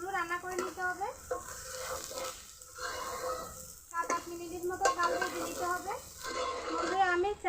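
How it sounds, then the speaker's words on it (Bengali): Chinigura rice frying in a pot with spices for dum biryani, a steady sizzle with scraping stirs, under continuous talk and occasional higher voices. "7-8 মিনিটের মতো চাল ভেজে নিতে হবে।"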